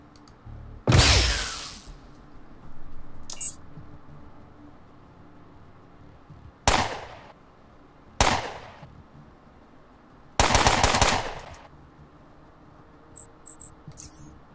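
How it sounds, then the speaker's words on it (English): Submachine gun fire in the Underrail video game: several sharp, loud bursts spread across the clip, with quieter ambient noise between the shots. "Is that a machine gun? It's a submachine gun."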